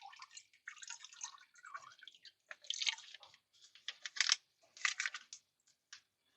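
A yeast mixture stirred gently and poured into a turbo yeast brewing wash, giving close, faint wet drips, splashes and clicks in irregular bursts with short gaps, no talking.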